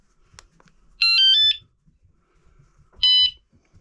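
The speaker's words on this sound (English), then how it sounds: "if you touch it, you get a warning and then an alarm" Two short shrill electronic beep bursts from an A5 Pro bicycle alarm taillight, the first longer with a stepped pitch, separated by quiet, sharp and piercing, with no speech.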